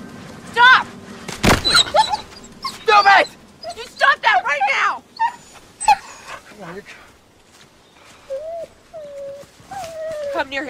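A dog whimpers and gives short yips and barks in an indoor domestic setting, the whines rising in brief bursts between loud voices of people talking nearby.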